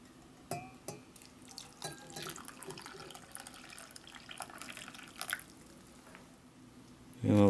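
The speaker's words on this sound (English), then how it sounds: "Some nice hot water here." Hot water is poured for tea from a Lithuanian combat ration, a soft trickling and splashing with scattered clinks and drips, ending in a louder knock.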